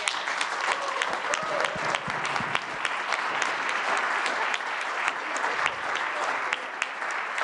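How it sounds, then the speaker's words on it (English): A crowd at a political rally in Philadelphia breaks into sustained, dense applause, with claps rolling continuously throughout. "So we owe you a big round of applause."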